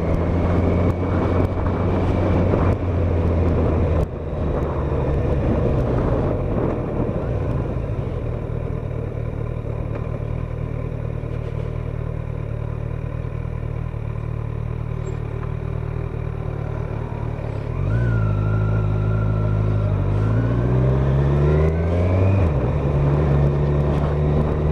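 A 2016 Kawasaki Z1000SX motorcycle being ridden, a loud, continuous engine drone with wind rush, settling to a steady hum and then rising and falling in pitch through gear changes near the end, with no talking.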